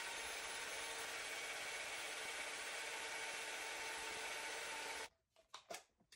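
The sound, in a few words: winding sport-weight yarn on a yarn winder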